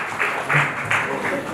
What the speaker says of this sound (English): We want to give a big round of applause for all the teachers once again